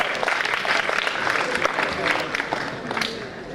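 Audience applause at a college fest in an amphitheatre, a steady wash of clapping from many hands, fairly close and continuous for a few seconds with no talking over it.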